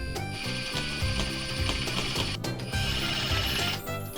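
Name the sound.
fastening screws into 2x4 wooden frame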